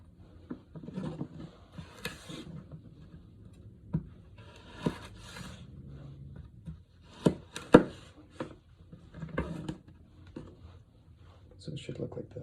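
Knife julienne-cutting vegetables into thin strips on a cutting board during food prep for kung pao chicken and shrimp lo mein: a series of sharp, close chops and taps in small bursts, with a voice talking between them.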